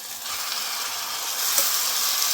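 Washed mutton fat drops into a pan where it fries in a steady, soft hiss of sizzling oil that grows slightly louder partway through, close and continuous with no talk.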